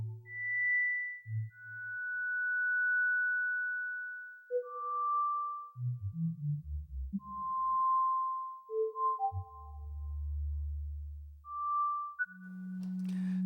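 Pure sine-like synth tones from Sonic Pi live coding, with reverb, sound as a sparse sequence of separate pitched notes, high and low, each ringing briefly with soft decaying tails against silence.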